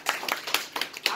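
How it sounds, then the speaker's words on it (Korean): A handful of people at a lecture clap briefly, about five distinct hand claps in quick, slightly uneven rhythm, fairly close and moderately loud. "박수 한 번만 주세요"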